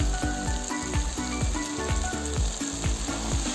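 Potato and eggplant masala frying in a pan, a loud continuous sizzle with a steady rhythm of spatula scrapes running throughout and no voices.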